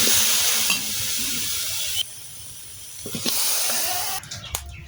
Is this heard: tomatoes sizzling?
yes